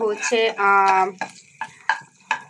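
Shrimp stir-fried with onion and green chili in a pan, a brief voice at the start, then several sharp, evenly spaced scraping and sizzling stirs up close.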